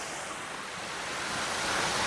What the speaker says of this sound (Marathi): इथून पाणी पडतंय त्याच्यामुळे त्या आवाज येतोय